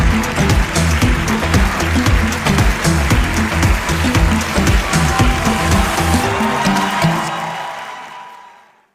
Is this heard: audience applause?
yes